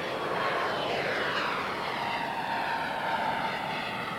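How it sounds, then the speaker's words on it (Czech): A steady, powerful roar from a Czech Air Force MiG-29A fighter jet on afterburner at an air show, broad and rushing, holding loud and constant without a break. "teď je tam forsáž, teď je tam přídavné spalování"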